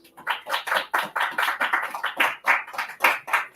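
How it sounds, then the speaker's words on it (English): A small audience clapping in unison, with sharp, evenly spaced group claps in a quick, steady rhythm that are close and distinct, with no talking over them. "let's clap it up"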